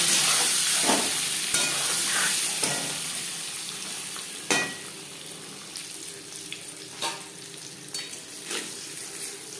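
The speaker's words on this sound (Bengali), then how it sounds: "ডিম লালচে করে ভাজা হয়ে গেছে, একটা পাত্রে উঠিয়ে নেব।" Eggs sizzle in a pan with turmeric, a continuous crackle punctuated by several sharp scraping stirs and clinks from a utensil.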